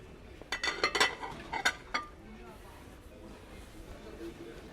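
Dishes and crockery clinking in a shop, including pink plates and deep bowls, a quick cluster of bright clinks early on that fades into background murmur.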